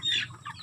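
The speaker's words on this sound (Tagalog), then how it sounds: "Ang aming mga manok." Chickens on a small poultry farm, a single close, short clucking call followed by softer clucks, brief and fairly clear with no talking.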